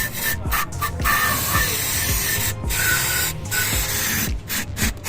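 Spray gun applying coating to a car oil pan for a DA17W turbo model in a workshop, with steady close hissing broken by several short pauses as the trigger is released, over a busy background clatter.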